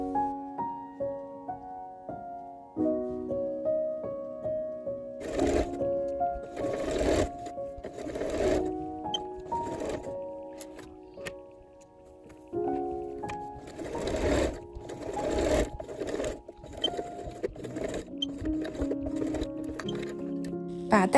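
A sewing machine stitches a folded fabric strip into a neckline tie, running in repeated bursts of rapid stitching over soft background music.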